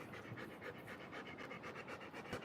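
Wilson the dog panting rapidly and rhythmically in hot weather on an Alaskan coast, quick close breaths repeating steadily and softly with no talking.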